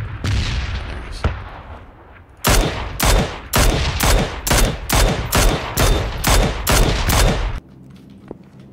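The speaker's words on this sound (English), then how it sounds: "Are those shots?" Rapid gunfire in the battle royale game PUBG: a quick string of about a dozen loud, evenly spaced shots rings out close by, preceded by a few scattered reports and followed by quiet.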